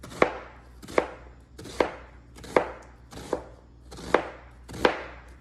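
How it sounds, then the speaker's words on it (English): A knife thinly slices half an onion on a cutting board, giving seven evenly spaced, crisp chops about every 0.7 seconds, close and fairly loud with no one speaking. "Gonna slice up half an onion."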